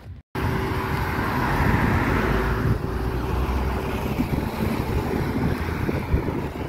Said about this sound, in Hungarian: van egy kis szél.